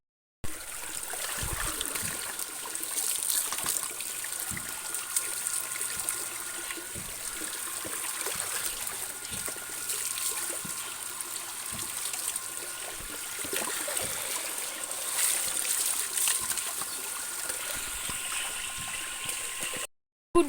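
Water pouring steadily while a pet dog is bathed, a continuous close trickle and splash running without a break and stopping abruptly at the end.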